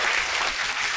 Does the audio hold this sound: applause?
yes